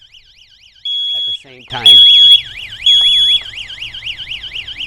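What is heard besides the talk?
smoke alarm and siren sounding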